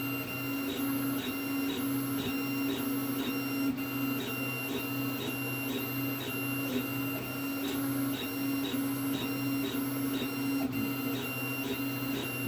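A 3D printer with a VzBoT experimental hotend extrudes at a high flow rate. It gives a steady, loud mechanical whine with a fast, regular pulsing rhythm of stepper motors that runs unbroken throughout.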